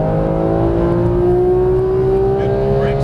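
A high-performance car on a Las Vegas track, its engine accelerating in a steady rising whine with a clear climbing pitch, loud and close throughout, no talk.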